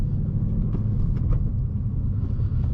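A 2019 Ford Mustang Bullitt V8 with a six-speed manual rolls slowly through a parking lot. It gives a steady, deep low rumble from inside the cabin with light shifting noises and no talk.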